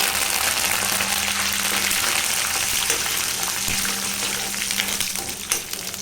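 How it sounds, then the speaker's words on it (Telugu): Curry leaves frying in hot oil for a tomato-coriander chutney tempering, a steady close sizzle with crackling spatters running throughout, no talk. "అవి కొంచెం వేగిన తర్వాత కరివేపాకు వేయాలి."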